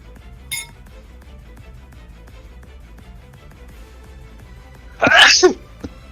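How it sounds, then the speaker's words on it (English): A person gives a single loud, sharp sneeze at close range at a tabletop game session, preceded by a faint clink of glass or cutlery in an otherwise quiet room. "Gesundheit."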